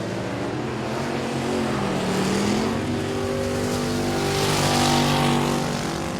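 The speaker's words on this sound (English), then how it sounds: "Cuvion still got it in the J1 car, but here comes Colt Layfield on the inside." Race cars roar around the Sabine Speedway oval during a regular race program, their loud engines rising and falling in pitch as they pass, filling the whole stretch with no talk.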